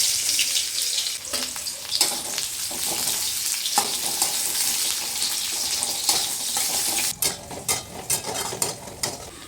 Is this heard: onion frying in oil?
yes